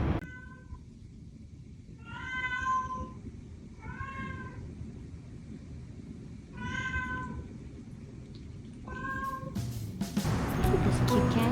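A cat meows four or five times in separate drawn-out calls against low background rumble, with louder rustling noise building at the end.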